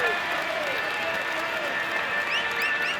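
Steady crowd applause and cheering at a podium ceremony for a Tour de France 2026 cycling video game stage winner at Alpe d'Huez, a continuous dense wash of clapping heard without pause.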